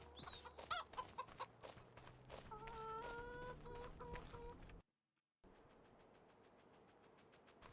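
Chickens cluck and a rooster-like call rises among farm ambience in the video game Farming Simulator 25, fairly quiet and busy, then a sudden cut to a brief silence and a softer steady background.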